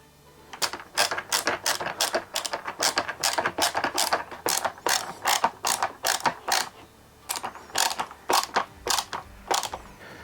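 Screws are driven back into an RV refrigerator face plate, likely with a power driver, giving a rapid series of sharp ratcheting clicks in quick bursts with brief pauses, close and clear with no talking.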